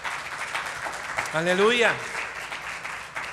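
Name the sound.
congregation applause in church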